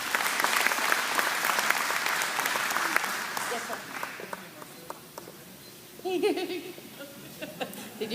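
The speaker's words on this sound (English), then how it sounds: "Let's give him a round of applause." Applause from a crowd at a candidate forum, loud at first and then thinning into scattered claps over about eight seconds, with a few voices mixed in.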